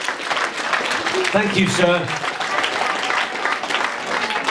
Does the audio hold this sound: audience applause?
yes